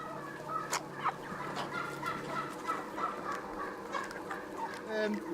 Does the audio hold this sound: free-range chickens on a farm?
yes